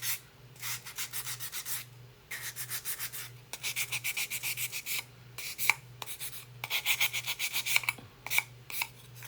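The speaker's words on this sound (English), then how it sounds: "So I'm just gonna lightly sand across." Light hand sanding across a wooden bench insert with coarse 60-grit sandpaper, brisk rhythmic rasping strokes in bursts with short pauses between them, close and clear with no talking.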